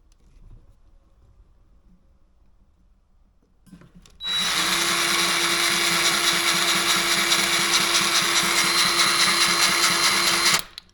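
A Bauer 20V electric grease gun pump whines loudly and steadily with a faint pulsing cycle, kicking in after a few seconds of near silence and running continuously until it cuts off.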